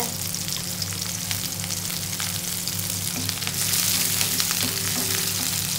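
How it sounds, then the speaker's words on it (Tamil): Onions saute in a hot pan with garlic, a steady close crackling sizzle with occasional stirring, growing slightly louder partway through, no voices. "அதையும் வெங்காயம் வதக்கிட்டு"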